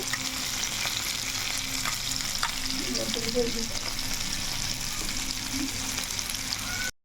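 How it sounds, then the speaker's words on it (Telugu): Fish fries in hot oil in a pan with a dense, steady close-up sizzle that holds throughout, a few faint utensil touches in the mix, before cutting off abruptly. "ఈ పక్క అంతా బాగా వేగిపోయింది కదా కింద మనకు కొంచెం వేగాలి"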